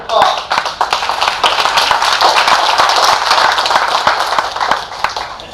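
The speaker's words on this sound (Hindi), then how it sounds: "अभी तालियां कमजोर है, पूरे सभागार से आनी चाहिए तालियां" Whole auditorium audience clapping loudly and densely at a live Hindi poetry and comedy show, a steady roar of hands that swells and holds before thinning at the end.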